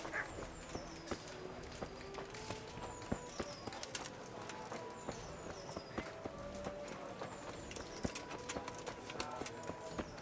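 Hooves clip-clop at a steady walking pace in Kingdom Come: Deliverance, with faint chirps and ambient effects underneath and no talking.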